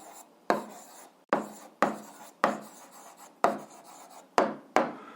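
Handwriting of an answer to an algebra exercise, with a series of about eight sharp, close scratching strokes in an uneven rhythm, each tapering off quickly, with no talk.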